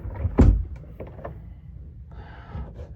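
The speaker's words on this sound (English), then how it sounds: "I need both hands to shut this door" A door is pushed shut by hand with one heavy close thump near the start, followed by soft handling noises and quiet rustling.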